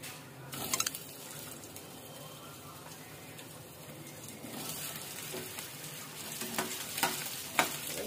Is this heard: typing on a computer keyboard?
no